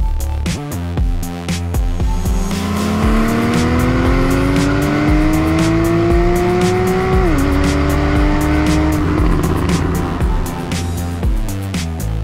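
A Porsche 911 991 Carrera 4S engine revving loudly and up close, the pitch climbing steadily for several seconds, dropping sharply at a shift, then rising again with a continuous strong roar.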